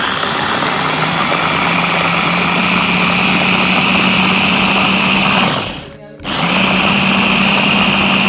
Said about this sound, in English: Then we cut them small because we want to put it in the blender.